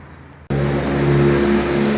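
A Peugeot car engine in a workshop catches and runs, starting abruptly after a quiet moment and settling into a loud, steady idle hum close by.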